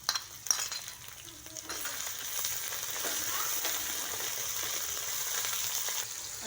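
Ginger garlic paste drops into softened frying onions for an arbi masala, a couple of sharp clicks at first, then a steady, close sizzle that continues evenly.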